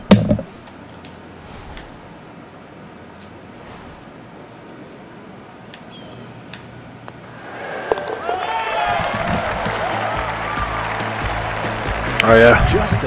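Crowd at a golf event swelling into cheers and applause, building from faint murmur to a loud roar in the final seconds, with a voice speaking early on.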